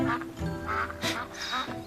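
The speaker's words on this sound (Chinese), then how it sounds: "这河边还有鸭子呢" Ducks by a riverside quack in a series of loud, nasal calls close by, about six bursts in under two seconds with brief gaps between them, heard clearly with no one speaking over them.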